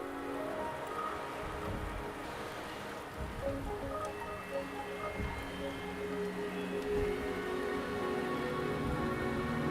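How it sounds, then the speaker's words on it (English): Steady rain falls in the video game Wuthering Waves, a dense, even patter of drops on surfaces with a soft low rumble beneath, continuous and moderately loud throughout with no voices. "The rain is subsiding,"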